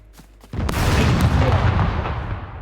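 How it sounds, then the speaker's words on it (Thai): A grenade in the SCUM video game bursts against a tree with a sudden loud boom, its blast rumbling and slowly fading over a couple of seconds after a few faint pops before it. "ปาระเบิดติดต้นไม้ครับ"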